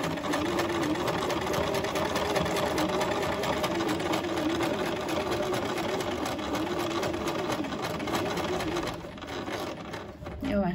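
A domestic sewing machine stitches the corner of a home-textile tablecloth with a steady, close mechanical whir that runs continuously, then slows and pauses near the end as the needle is left down to turn the corner.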